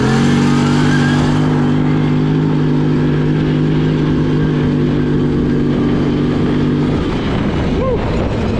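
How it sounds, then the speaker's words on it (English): A 2008 Arctic Cat Thundercat 1000cc ATV in four-wheel drive launches and accelerates along a street. The engine roars loud and close with a sustained drone that holds steady and then shifts near the end, with no talk over it. "4-wheel drive, we'll just launch it and see what we get up to for speed this half block or so here."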